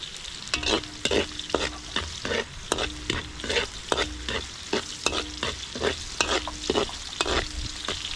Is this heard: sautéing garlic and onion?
yes